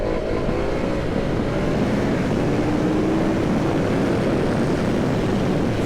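A 2022 KTM Super Adventure R motorcycle at speed, its steady engine drone blending with strong wind rush, continuous and loud from start to finish, with no talk.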